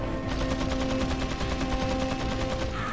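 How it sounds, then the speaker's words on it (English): Rapid automatic gunfire in the video game Resident Evil 4, a dense, even train of loud shots that runs continuously for about three seconds, with no voices. "Stop shooting"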